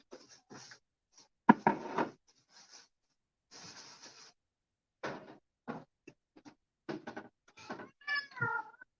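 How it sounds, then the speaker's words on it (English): A house cat meows several times, close and fairly loud, in short separate calls with gaps between them, ending in a longer, wavering meow. "Shush, cat."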